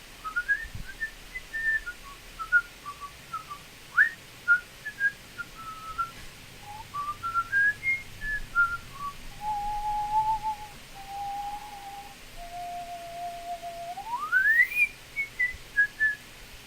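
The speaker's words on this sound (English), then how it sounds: "I learned to whistle that way long before I learned to whistle with my lips" A person whistles a wandering melody with the tongue pressed behind the teeth, bright sliding notes and held tones rising and falling, close and clear with no talking.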